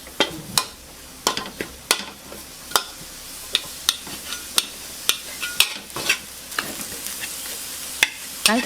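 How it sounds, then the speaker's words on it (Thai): Minced pork stir-frying with chopped garlic in a tablespoon of olive oil: a steady close sizzle broken by frequent sharp scrapes and clacks of a spatula against the pan, all without talk. "ผัดรวนหมูสับนะคะ"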